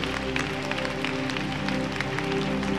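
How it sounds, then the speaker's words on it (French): A church congregation claps steadily through a continuous, sustained musical backdrop, with the applause staying fairly even and moderately loud throughout. "On applaudit"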